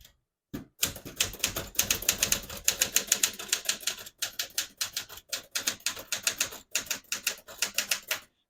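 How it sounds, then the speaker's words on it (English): Rapid clacking keystrokes from a 1964 Smith-Corona Galaxie portable manual typewriter, loud and close, coming in steady bursts with short pauses between runs of typing. "Beautiful typing machine."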